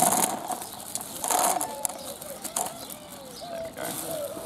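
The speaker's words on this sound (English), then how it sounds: "Kea are super playful birds." Kea parrots give several short, rising whistled calls at moderate distance, scattered through the clip over soft handling noises and faint background sound.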